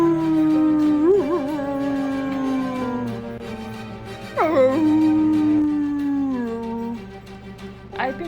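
Dog howls in long drawn-out wails indoors while smoke alarms have gone off, two rising-then-falling howls close by, followed by a short yelp at the end.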